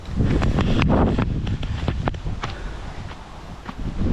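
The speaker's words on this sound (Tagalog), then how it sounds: "Lakas din ang hangin" Strong wind buffets the microphone in a steady low roar, with scattered rustling and faint knocks over it; no one speaks.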